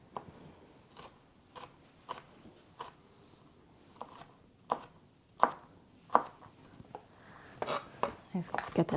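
A knife dices a jalapeno pepper on a cutting board in a kitchen, giving a series of sharp, irregular chopping taps that speed up toward the end, close and fairly quiet.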